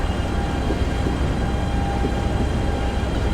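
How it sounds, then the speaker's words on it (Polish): A BR 187 TRAXX 3 electric locomotive in Train Simulator Classic runs steadily with a freight train, giving a continuous loud rumble and rolling wheel noise with a faint whine and no pauses. "W tym momencie mamy swobodną jazdę do przodu z naszym składem, prawdopodobnie z jakimś zbożem."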